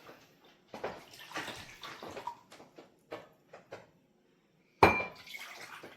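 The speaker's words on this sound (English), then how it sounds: "1 cup of lukewarm water to each one of these bowls" Lukewarm water is poured into mixing bowls while preparing yeasted bread dough, with soft trickling and splashing, light clinks of bowls and utensils, and one sharp knock near the end; close and fairly quiet.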